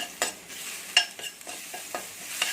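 Ginger garlic paste with turmeric frying in a pan, quiet sizzling broken by several short scraping stirs of a spatula at irregular intervals.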